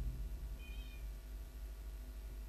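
A cat meows once, a short faint call over a loud steady background hum and rumble.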